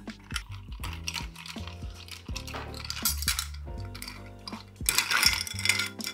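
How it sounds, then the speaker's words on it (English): Ice clinking and rattling against glass as a Scotch whisky cocktail with mole bitters is stirred, a steady run of bright metallic taps and jangles, close and fairly quiet, growing busier toward the end with no talking. "Give it a stir."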